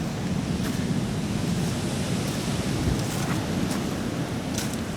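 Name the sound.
ocean waves flooding Malama Flats, Hawaii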